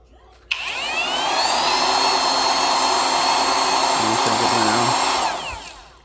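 A LIVOWALNY cordless concrete vibrator powered by a 5 amp Dewalt battery switches on with a click, whines at a steady high motor pitch for about five seconds, briefly wavers, then winds down.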